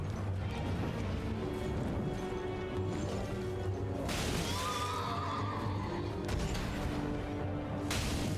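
A horse neighs loudly in the video game Elden Ring, with a drawn-out whinny in the middle over dense battle noise, crashes and swooshing hits.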